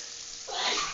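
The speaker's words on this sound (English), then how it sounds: "We got sneezes happening here." A single sneeze bursts out in the second half, breathy and fairly close, after a brief quiet hiss.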